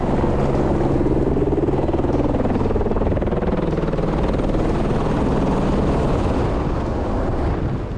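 A helicopter used to wrangle bighorn sheep in Arizona thunders close by, its rotor producing a loud continuous low chopping rumble throughout, with no voices.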